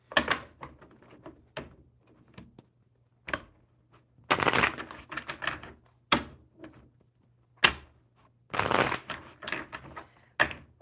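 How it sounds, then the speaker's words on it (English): Bursts of rapid tarot card shuffling, with several longer riffling runs separated by quieter pauses and scattered soft taps and handling noises, close and fairly clear. "One more good shuffle."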